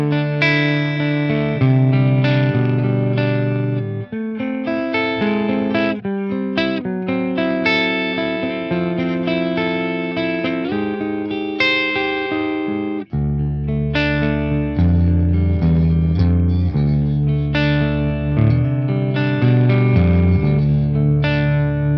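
A Mesa Dual Rectifier Rev F guitar amplifier on channel 1, clean mode with 6L6 tubes, plays chords and single notes that ring with rich harmonics, shimmering and steady, loud and continuous with a brief break midway.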